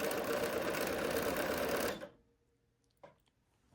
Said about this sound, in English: I'm just going to sew the length of this, press it open